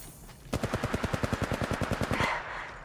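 An automatic weapon fires in Apex Legends Mobile, a single steady burst of about twenty rapid, evenly spaced shots. It is close and clear and stops abruptly, with no talking.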